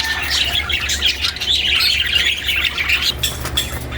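Pet parakeets in a homemade flight cage chirp busily and continuously, a loud, dense twittering flock close by with a few wing flutters.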